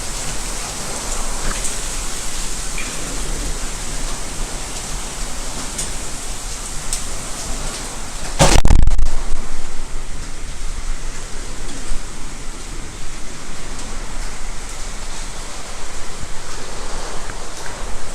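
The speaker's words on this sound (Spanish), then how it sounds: "voy a cerrar un poco la puerta porque está el aguacero" A heavy downpour falls outside a church door, a loud, steady hiss of rain that runs without a break, with one brief, louder burst of noise partway through.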